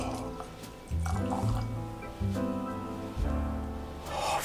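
Kentucky Owl Rye whiskey, Batch 3, is poured into a glass, a steady liquid fill with a few brief pauses and restarts, close and clear, with no one talking.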